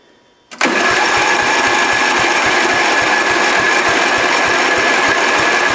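A Murray lawn tractor's small engine catches at about half a second and then runs steadily and loudly with the choke off, its rapid regular firing pulses holding an even drone without talk.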